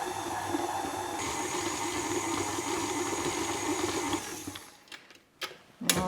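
An electric mixer creams butter and brown sugar for gluten-free Kingston biscuits, running as a steady, even motor whir at low speed before cutting off, followed by a few clattering knocks.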